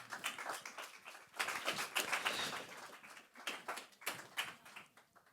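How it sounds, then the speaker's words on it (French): A studio audience claps for a guest invited onto the stage at a deeptech entrepreneurship event, steady applause rising and falling in waves across several seconds with no voices. "On peut l'applaudir, s'il vous plaît"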